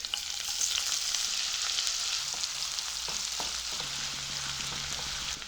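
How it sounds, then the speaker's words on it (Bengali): Chopped onion drops into plenty of hot oil and fries with a loud, steady sizzle, while a spoon stirs and scrapes the pan in short bursts, close up with no talking. "তেল গরম হয়ে গেছে দিয়ে দেবো কুচনো পেঁয়াজ"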